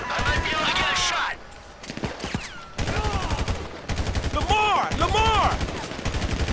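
Gunfire fills a Grand Theft Auto V street shootout with dense, rapid automatic bursts and volleys that carry on almost without a break. Shouting voices and sweeping tones run beneath the shots.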